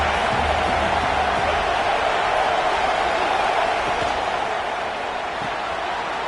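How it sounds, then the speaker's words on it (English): A stadium crowd in an NCAA college football video game roars steadily during a drive into the red zone, a dense sustained wash of cheering with no breaks, loud and continuous. "Here comes 2nd down, and this crowd is turning it up a notch."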